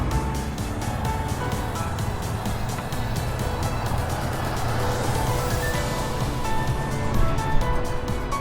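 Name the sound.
cars passing on a commercial street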